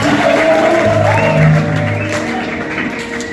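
A church congregation breaking into applause after a count of three during a revival service, a broad crowd clap with some whoops and shouts, voices and a sustained tone mixed in, fading slightly toward the end.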